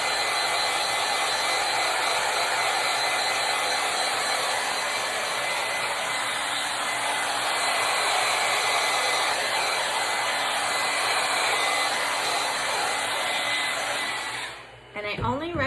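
Heat tool blowing cold air onto an ink mat to dry it, a steady loud whooshing roar that runs nearly the whole time before cutting off abruptly near the end.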